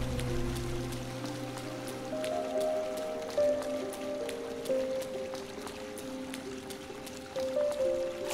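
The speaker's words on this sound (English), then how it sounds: "Just follow this waterfall." A waterfall in the video game Hollow Knight, a steady splashing rush with dripping, even and continuous throughout, with sustained game music tones layered over it and no speech.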